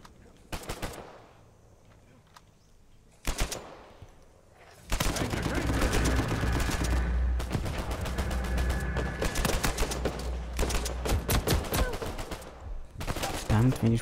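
Rapid bursts of gunfire from Uncharted 4 multiplayer, short isolated shots early then a dense, loud stretch of sustained firing and game effects, with someone talking over parts of it.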